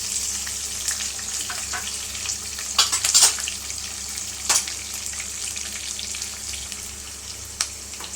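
Steady sizzling of onions frying in hot oil, with a few clinks and stirring scrapes; no voices.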